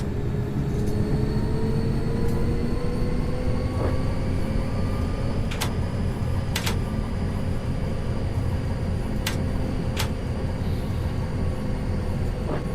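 Tram interior while riding and slowing to a stop, with a loud, steady low rumble and whine of motors and wheels on rails, and a few faint high clicks and squeals above it throughout.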